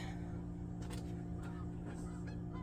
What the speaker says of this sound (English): If you can hear the geese outside.